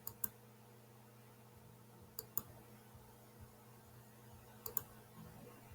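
A computer mouse clicks in quick double taps, three pairs spaced a couple of seconds apart, faint and close in an otherwise quiet room.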